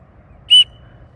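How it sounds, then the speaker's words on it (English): A single short, sharp whistle blast, blown outdoors to signal an archery companion dog to return, rising clearly above quiet background noise. "I blow a whistle,"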